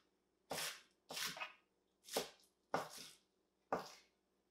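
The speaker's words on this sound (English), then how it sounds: "But you just want to slice your green onions up." Green onions sliced with a knife on a cutting board: five sharp, close chops spaced about a second apart, with quiet pauses between them and no talking.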